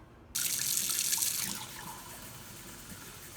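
Water poured from a tap into a cup with lemon juice to make a microwave cleaner, a sudden close splashing stream that runs about a second and then settles into a softer filling trickle.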